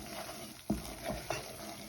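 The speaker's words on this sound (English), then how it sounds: "So this is called a roux. So where you cook the flour in butter." Flour cooking in butter for a roux in a pan, with a soft continuous sizzle under a few distinct spoon scrapes and stirring knocks, close and fairly quiet.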